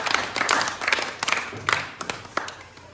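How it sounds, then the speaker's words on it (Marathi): Students clapping for a classmate, Arjun, after he solves a matchstick puzzle in a classroom, a short run of uneven, scattered claps in loose bursts, fairly close and moderately loud. "वा वा शाबास अर्जुनसाठी टाळ्या वाजवा"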